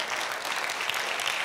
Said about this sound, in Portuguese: dê uma salva de palmas a Jesus por ela.